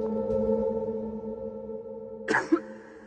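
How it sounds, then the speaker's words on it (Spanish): A single short cough from one person indoors, breaking sharply over a steady low electronic tone, followed by a brief throat sound. "Una persona tose una vez."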